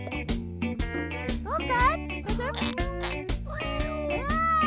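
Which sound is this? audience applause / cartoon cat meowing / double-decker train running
cartoon cat meowing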